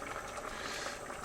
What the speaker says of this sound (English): so that's going to boil up now